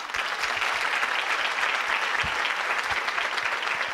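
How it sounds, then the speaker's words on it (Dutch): Steady audience applause fills the room at a school students' debate event in Alkmaar, a dense, even wash of many hands clapping that runs unbroken for the full four seconds with no talk over it. "Ook voor jullie een groot applaus."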